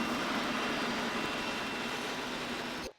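An EGO 3200 battery-powered pressure washer running on turbo mode gives a steady, loud, close hissing spray roar that holds evenly for about three seconds, then cuts off abruptly.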